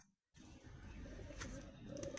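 A green-eyed pigeon coos softly up close after a brief silence, a low murmuring call set against faint background noise.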